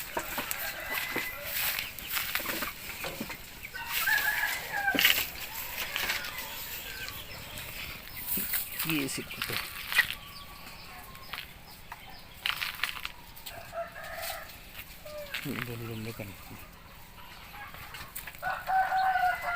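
Young chickens on a poultry farm cluck and cheep continuously, with close calls, a rooster's crow and occasional wing flaps, while someone talks quietly at times.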